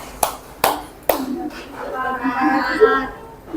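A teacher claps hands three times as a grouping signal in a classroom, three sharp, evenly spaced near claps, then the teacher's voice follows.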